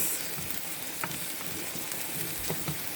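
Collard greens cook in a pot with a soft, steady sizzling bubble, close and fairly quiet, broken by a few light clicks of a spoon or lid.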